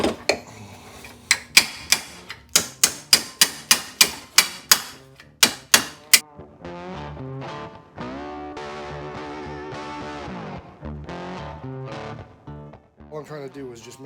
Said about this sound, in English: So I'm just kind of putting it on there and just pounding down first and then pounding it in.